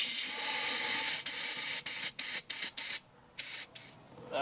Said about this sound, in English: I also want to blow through the fuel line